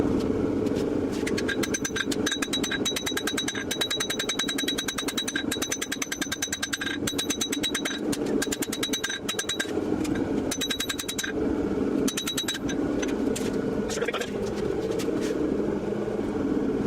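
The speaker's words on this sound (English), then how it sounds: "I can grind it and cut it away in a matter of moments" Steady, loud mechanical grinding runs throughout as tapers are ground into a 270mm San Mai chef's knife blade, with a continuous motor drone and rapid repeating high-pitched contact bursts, no talk.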